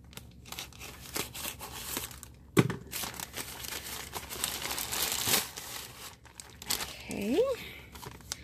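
A plastic Amazon package crinkles and rustles as it is handled and opened, with a sharp tear partway through and a brief voice near the end.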